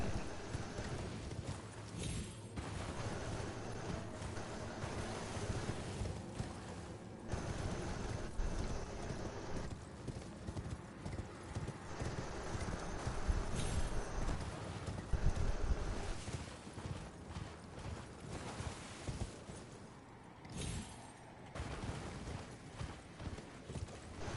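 Galloping horse hooves from a mount being ridden in a video game, a steady rhythmic clip-clop running throughout at moderate level, with the occasional whinny and brief game sounds.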